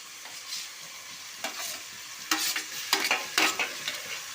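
Tomatoes frying in oil with ginger paste for a chicken curry, a steady sizzle broken by several sharp scraping stirs that come closer together toward the end, close by with no talking.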